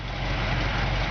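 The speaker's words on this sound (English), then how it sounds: "Horn works." Horn of a 1951 Ford F1 pickup truck sounding as one loud, steady, buzzy blare held for over a second, close by.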